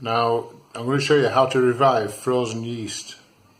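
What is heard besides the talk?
No distinct noise like a dog, phone or traffic.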